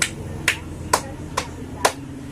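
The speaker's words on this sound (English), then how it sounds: "So let's give group 5 5 claps." Pupils in a classroom during a teaching demonstration clap for group 5, giving sharp, evenly spaced claps at moderate loudness over faint room hiss with no talking.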